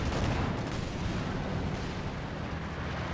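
An incendiary artillery barrage in Company of Heroes 2 makes dense, continuous rumbling blasts and crackling fire, a thick steady wash of noise with no clear gaps.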